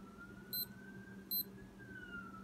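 A cheap rubber digital sport wristwatch sounds two short, high electronic alarm beeps about a second apart, faint and close against a quiet room hum.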